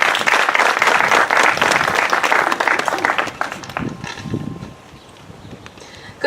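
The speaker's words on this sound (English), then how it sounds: "Give a round of applause, everyone." Audience applause at a Monterey County 2020 Census launch event, loud and sustained clapping from a crowd for several seconds before fading away to near quiet.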